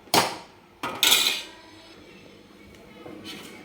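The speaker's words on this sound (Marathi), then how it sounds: "तर आपण ही प्लेटमध्ये भाजी काढतो." Potato curry gets served from the pot onto a plate with a few sharp metallic clinks and scrapes of a ladle against metal, two close bursts early followed by quieter faint clatter.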